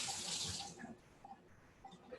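Cucumbers rinsed under a running kitchen tap. A loud rush of water comes first, then it drops to a softer, steady trickle and splashing close by.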